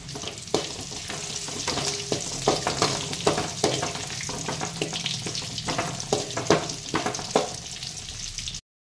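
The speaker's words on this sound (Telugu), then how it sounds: "ఒక 3 నిమిషాల పాటు అయితే వేయించుకోవాలన్నమాట ఆనియన్స్" Onions and curry leaves fry in a pan for vaangi bath, giving a steady close sizzle broken by frequent scraping and stirring clatters, with no talking.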